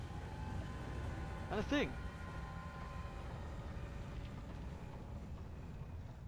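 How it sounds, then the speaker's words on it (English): A train in the video game Alice Madness Returns gives a brief rising-and-falling whistle-like call over a steady low rumble, with a person talking across the clip. "There's a train."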